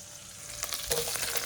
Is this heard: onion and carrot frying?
yes